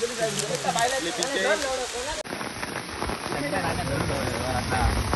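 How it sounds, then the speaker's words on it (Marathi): Heavy rain pouring down during an outdoor chicken party, a dense continuous patter on surfaces, loud and close, with voices talking and shouting over it and a sudden cut partway through. "जोरात पाऊस आला"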